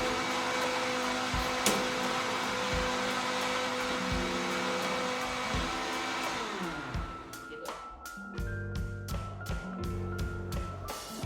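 A blender grinds chili paste for sambal, a loud continuous whirring motor that drones steadily, then breaks into short pulsed bursts near the end.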